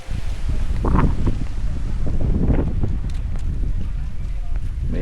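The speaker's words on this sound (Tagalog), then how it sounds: "Sobrang lakas ng hangin," Strong wind gusts across an open farm field in Pampanga, buffeting the microphone with loud, rumbling roars that swell and ease continuously, with a voice faintly under it.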